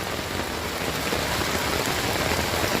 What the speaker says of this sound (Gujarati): અત્યારે સવારથી વરસતા વરસાદમાં અહીંયા ખૂબ પાણી ભરાયેલું છે.